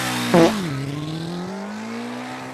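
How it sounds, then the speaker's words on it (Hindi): A cartoon motorbike in an Urdu horror animated series fires up with a short burst, then its engine settles into a steady drone as it pulls away, rising slightly in pitch over the clip. "अरे बाइक स्टार्ट हो गई, चल कल्टी मार।"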